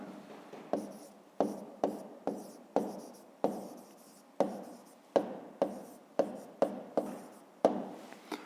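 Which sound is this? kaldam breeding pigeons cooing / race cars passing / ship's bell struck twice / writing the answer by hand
writing the answer by hand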